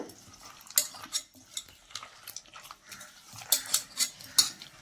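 Ripe tomatoes squeezed and mashed by hand for tomato rasam make soft, wet squelching and squishing sounds in irregular close bursts, fairly quiet with brief pauses between squeezes.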